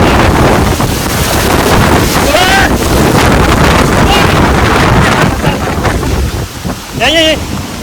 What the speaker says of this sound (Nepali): पुरा हावा चलेर आएको छ त्यो यार